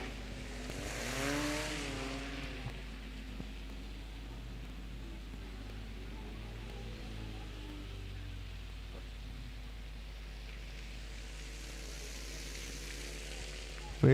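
A BMW E36 race car runs on a wet track, a steady hissing spray of water under a distant engine drone that swells near the start and again toward the end.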